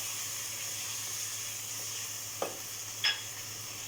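Cubed potatoes being tossed in a masala in a pan, giving a low, even sizzle with a couple of brief scraping stirs of a spoon.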